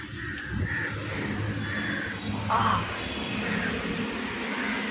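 Crows gather near someone holding salty snacks and caw in a few faint, intermittent calls, distant and soft over a low, steady background rumble.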